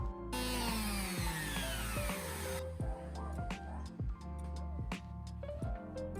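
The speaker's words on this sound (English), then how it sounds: "letting the sander do the work and following the wood grain" An electric sander whirs steadily up close on old wood veneer of an Art Deco dresser, its motor pitch wavering as it works, with rhythmic scraping pulses against the wood throughout.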